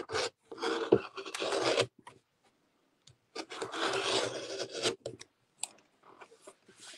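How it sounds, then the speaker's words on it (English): Rotary cutter drawn along a ruler to trim a wonky edge off a quilt-as-you-go mug rug: two bursts of close scraping, rasping cuts separated by a quiet pause, with smaller scuffs and clicks from handling afterward. "I'm going to trim off this wonky edge"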